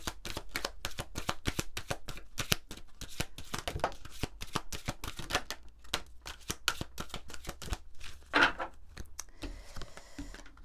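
Oracle cards being shuffled for a reading, a rapid run of crisp riffling snaps and flicks close to the ear, pausing near the end before a few softer card slides.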